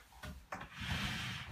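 A wooden futon sofabed frame in light oak stain scrapes and rubs across the floor as it is pulled away from a wall, with a couple of knocks followed by a longer dragging sound, close and quiet.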